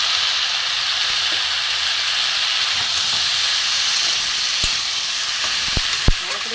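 Malabar spinach and hilsa fish head fry in a pan with a steady, close, bright sizzle and hiss throughout, broken by a few faint clinks near the end.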